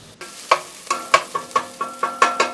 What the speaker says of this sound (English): We want these to cook until they become translucent.